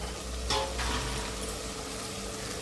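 Biryani masala with chilli powder sizzling and frying in a pan, a steady crackling hiss with brief stirring scrapes, close by and moderately quiet.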